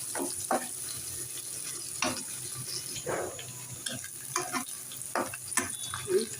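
Meat curry poured into a pan of frying chopped onions, with soft sizzling and scattered scraping stir strokes and clinks through the stretch, no talk.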